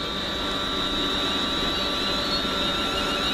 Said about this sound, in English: there goes 251 off to Wolverhampton